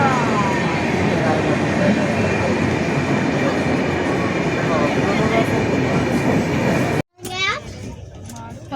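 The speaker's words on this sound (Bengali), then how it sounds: "এই ট্রেনটা আসার কথা ছিল 9:30টায়, কিন্তু প্রায় 15 মিনিট লেট করে ট্রেনটা আসছে" The Gitanjali Express, superfast train 12859, arrives at Nashik Road station with a loud, continuous rumble and clatter. Children's voices and chatter carry over it, then the noise cuts off and a voice speaks.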